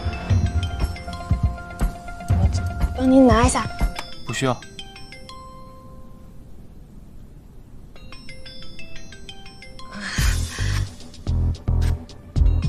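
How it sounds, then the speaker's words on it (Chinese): A phone plays a bright melodic ringtone in short bursts, with people talking nearby between and over the rings. "您手机响了"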